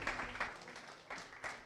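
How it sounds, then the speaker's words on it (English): Faint, scattered clapping from a panel-discussion audience on civic misinformation, swelling in a few soft bursts before tapering over a short stretch. "We can keep that round of applause going."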